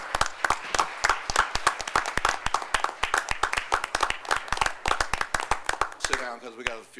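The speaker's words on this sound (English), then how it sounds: "let's give them all a round of applause" Audience applause at a civic gathering honoring a neighborhood leadership academy class, brisk rhythmic clapping from a modest crowd for several seconds before fading into a voice at the end.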